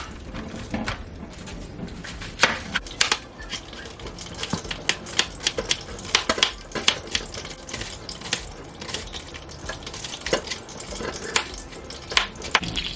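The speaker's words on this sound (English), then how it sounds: "We're going to chop up this here onion." Rapid knife chops through an onion on a cutting board, sharp irregular taps in quick succession, close up, with no talking.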